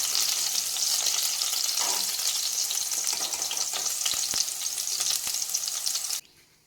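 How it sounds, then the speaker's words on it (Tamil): Okra (vendakkai) frying in hot oil for a Tamil kara kulambu, a steady bright sizzle with crackling pops and occasional stirring clinks, continuous and close until it cuts off near the end. "வெண்டைக்காய் இந்த அளவுக்கு நல்லா பொரிஞ்சிடணும்."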